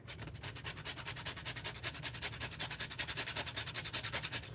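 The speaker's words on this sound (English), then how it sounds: "So I'm gonna grate some nutmeg." Whole nutmeg scraped across a grater in a quick, even rhythm of rasping strokes, close and fairly quiet, about a dozen rubs in a row with no talking.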